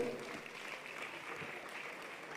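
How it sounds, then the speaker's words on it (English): Applause from a dinner audience at the birthday dinner of Otumfuo Osei Tutu II, the Asante king: a steady wash of many hands clapping from the room, moderately loud and unbroken, with no voices standing out. "Please, a round of applause."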